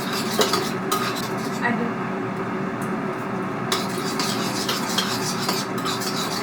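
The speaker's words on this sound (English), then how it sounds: "This will stir until the sugar melts." A utensil scrapes and clatters steadily against a pan as brown sugar is stirred into tamarind sauce over a low bubbling sizzle, close and continuous, with no speech.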